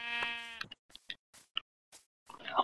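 A Minecraft sheep gives one short, clear bleat, followed by soft scattered game clicks and faint quiet noises.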